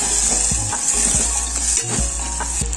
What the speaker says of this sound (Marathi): हिंग, कांदा, टोमॅटो आपण परतून घ्यायचे